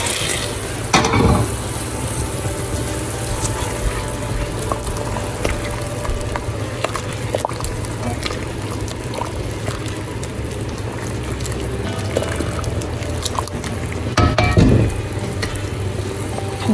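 Sugar-and-water syrup for chomchom bubbles and sizzles steadily in a pan throughout, with a couple of brief scraping clinks from a utensil near the start and end.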